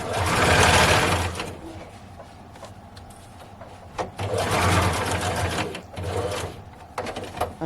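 A sewing machine stitches the corners of a fabric face mask in loud, rapid whirring bursts: one at the start, a long run through the middle, and another near the end, separated by short pauses.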